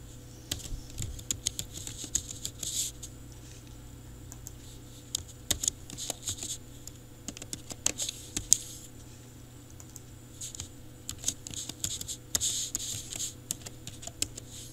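Computer keyboard typing at a desk, bursts of quick clicking keystrokes coming and going over about fifteen seconds, close and moderately quiet with a steady low background hum.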